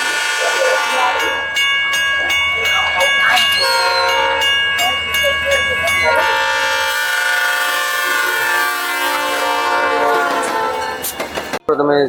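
A train stands at a railway station set up inside a festival exhibition in Mahuva. Its loud horn blares in long tones over rhythmic rail clatter, and people talk nearby.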